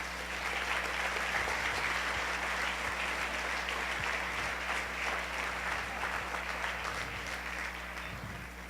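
Congregation applause at a Sunday church service, a steady wash of clapping from many hands that carries on for several seconds at moderate distance with no talking over it.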